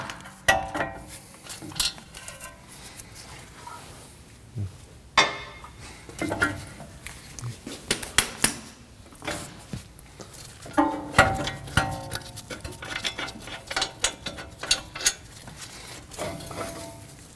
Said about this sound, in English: We have two 19mm bolts on the back side of the knuckle. We can go ahead and remove those.